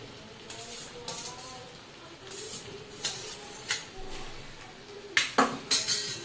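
Veg chowmein noodles being stir-fried in a pan for a street-style recipe, with a series of sharp clanks and scrapes of utensil on metal over a soft steady background hiss, growing busier toward the end.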